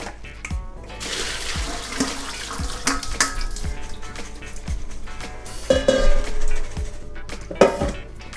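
Tap water runs and splashes over soaked beans for balila being rinsed in a kitchen sink, a steady close wash broken by scattered clatter and knocks of beans against the strainer.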